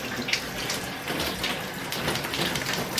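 Water from a shower runs in a steady, broad hiss that stays even and fairly close throughout, with no voices over it.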